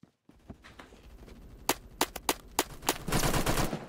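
Gunfire in the video game Phantom Forces, starting with a few scattered shots, then a series of sharp, loud cracks at uneven intervals, and ending in a denser burst of rapid fire, with no talking.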